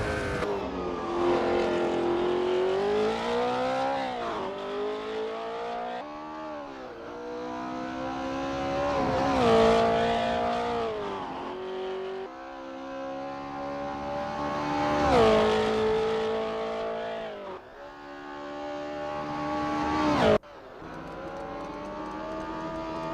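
Porsche 908 LH race car in Assetto Corsa at the 1960s Longford circuit, its engine wailing loudly and continuously, pitch climbing through gears and dropping on downshifts, with occasional brief tire squeal and no talk.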